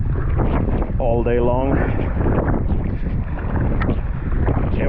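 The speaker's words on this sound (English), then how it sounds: "now we can feel that wind that they've been promising" Strong headwind batters the microphone during open-water sea kayaking, a loud steady roar of wind noise with brief speech heard over it.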